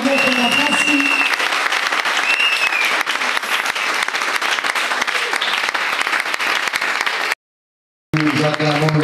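A conference audience of church leaders applauds an apostle with loud, sustained clapping and cheering, while voices call out over the noise; the applause cuts off briefly near the end, then resumes.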